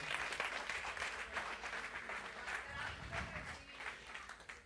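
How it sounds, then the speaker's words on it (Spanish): Applause from a church congregation swells and ebbs in uneven bursts of many clapping hands, moderately loud, with scattered voices and cheers mixed into the crowd noise. "dale un aplauso al Señor"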